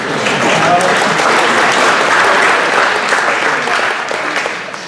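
Sustained audience applause from a crowd congratulating a couple of people, steady and dense throughout before tapering slightly at the end, with no speech over it.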